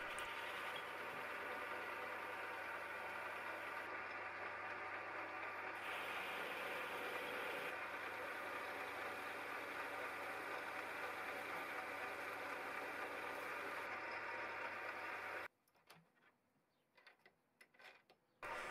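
Steady mechanical whirring and grinding from a home-workshop lathe turning an aluminium mandrel runs continuously at moderate level, then cuts off abruptly near the end, leaving a few faint clicks.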